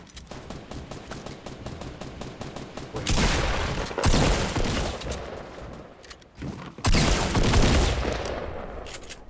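Rapid bursts of gunfire in Fortnite, a dense crackling volley that swells into two loud sustained stretches of shooting over continuous game noise, with almost no talk.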